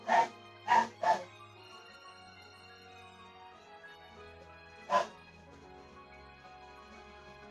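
Several dogs bark and yip in a quick burst of three sharp barks, then a single bark a few seconds later, moderately loud over a faint steady background.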